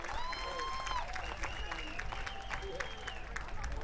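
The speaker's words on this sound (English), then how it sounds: "Give yourself a round of applause" A round of applause from a crowd after a large march, faint and distant, with scattered clapping beneath voices talking over it.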